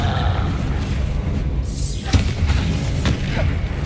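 A Confringo fire-blast spell goes off in the wizarding game Hogwarts Legacy, a sharp whooshing burst followed by a couple of smaller impact pops over a dense background of game noise.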